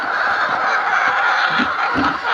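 Free-range hens cluck and babble loudly and continuously, a close, dense flock sound with a few deeper squawks, and no one talks.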